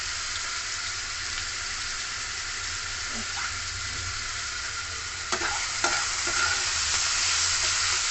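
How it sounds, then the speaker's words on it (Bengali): Bitter gourd (korola) leaves with turmeric and salt frying in a pan, a steady close sizzle with scraping stirs and a few sharp clicks of the utensil toward the end. "এটাকে ভাজা ভাজা করে নেব।"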